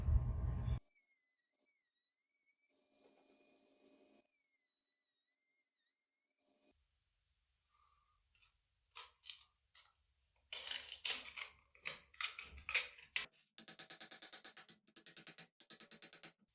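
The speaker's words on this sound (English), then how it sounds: "now we're gonna cut a couple of slits into the soup can" Slits cut into an aluminium soup can for a homemade rocket stove, heard as bursts of rapid, crisp snipping and crunching metal sounds near the end, separated by quiet pauses.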